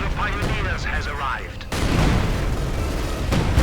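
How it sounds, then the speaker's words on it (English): An SU-76 artillery barrage in the video game Company of Heroes, heavy booms and blasts rolling out, with a loud impact near the middle, under a commentator's voice. "Instead we see an SU-76, another one actually arriving. Open up with its barrages."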